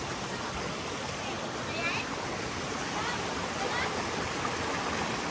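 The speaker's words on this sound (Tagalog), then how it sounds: "Yung maliit na falls." A small waterfall on a stream during a short hike, heard as a steady, even rush of falling water. Faint speech sits under the constant roar.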